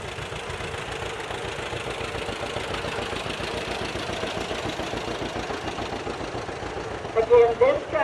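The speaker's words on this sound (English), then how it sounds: "This is a 1938 John Deere B with a loader." A 1938 John Deere B tractor with a loader runs at an antique machinery parade, its engine putting out a steady, close, low rhythmic chugging with a brief louder burst near the end.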